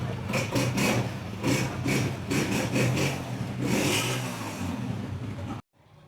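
A black 2012 Honda 125 motorcycle, non-Euro model, runs close by with a loud, throbbing engine note that rises and falls in short blips of revving before cutting off abruptly.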